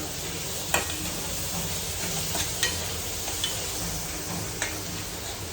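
Poha with peas cooks in a pan, giving a soft steady sizzle as a spoon stirs it and taps the pan in a few sharp, scattered clicks.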